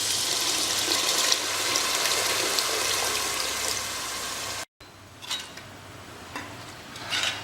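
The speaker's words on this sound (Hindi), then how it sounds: "पानी हमने डाल दिया इसमें।" Water poured into mutton korma masala frying in a pan for a Hyderabadi-style korma, a steady broadband hiss and sizzle that cuts off briefly, then continues quieter with a few splashing bursts.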